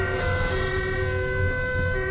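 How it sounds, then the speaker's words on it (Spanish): A fire engine's siren wails continuously with sustained steady tones, fairly close, over the hum of road traffic. "un vehículo de emergencias está sonando las sirenas y va con luces"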